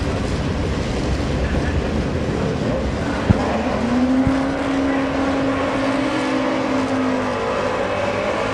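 A Liska Racing drag car rolls out, its engine a low, distant rumble under outdoor wind, with a brief sharp pop and a sustained rising tone as the car moves off; faint and far away.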